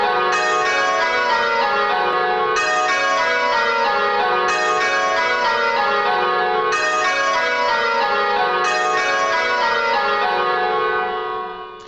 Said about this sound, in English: once you've got a couple of bells that are out, it becomes increasingly hard to work out which bell it actually is that's making the error